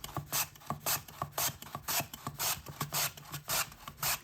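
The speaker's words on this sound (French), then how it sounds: "Émincez le plus finement possible vos pommes de terre. Pour cela, j'utilise une mandoline" Potatoes are sliced thinly on a mandoline in steady, evenly spaced rasping strokes, about two per second, close and moderately loud with no talking.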